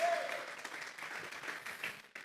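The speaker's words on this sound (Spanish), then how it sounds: "Vamos a regalarle ofrenda de palmas al Dios de la gloria." Church congregation clapping together in a steady, continuous wash of applause, moderately loud and sustained throughout, with no clear speech over it.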